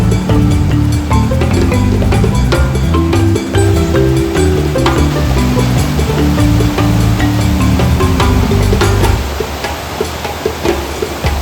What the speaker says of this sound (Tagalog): Doon sa may unahan ng konti merong falls.